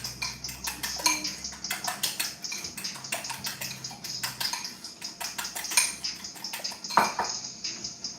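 Onions are beaten into a ramen mixture in a bowl, a fast steady clatter of utensil on bowl with rhythmic clinks, close and continuous with no talking.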